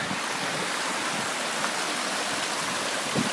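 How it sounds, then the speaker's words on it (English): Babbling brooks on a mountain trail up Mount Cabot in New Hampshire, a steady broadband rush of flowing water that stays loud and even throughout, with no voices. "It's like a little crossroads with the babbling brooks all over the place."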